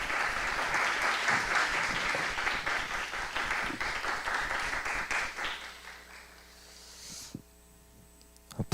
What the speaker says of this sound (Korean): 우리 목사님 오실 때 할렐루야 환영하며 박수하겠습니다